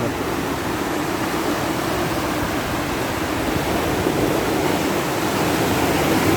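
Water flowing out at the Yasothon-Phanom Phrai dam makes a steady, loud, unbroken rushing roar that fills the whole stretch, with no voices.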